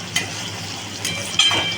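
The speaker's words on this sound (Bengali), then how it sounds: "দিয়ে একটু ভেজে নেবো আমি সবজিগুলো" A continuous sizzle of vegetables frying in a pan, with a couple of soft clinks and stirring scrapes.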